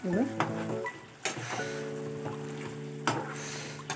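Chicken 65 curry sizzles loudly in a pan while being stirred, with a constant frying hiss broken by a few sharp scrapes and clinks of the spoon against the pan.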